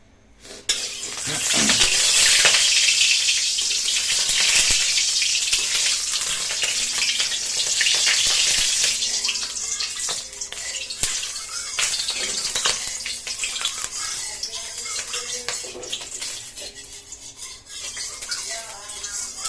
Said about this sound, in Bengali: ডিমগুলো ভেজে নেব